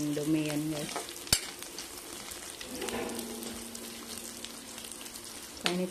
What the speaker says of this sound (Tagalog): Dito na lang hugasan yung kawali natin guys. Kaya mainit talaga.